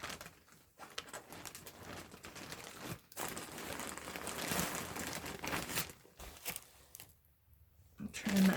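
A plastic bag crinkles and rustles close by as items are unpacked from it, in loud irregular bursts with brief quiet gaps.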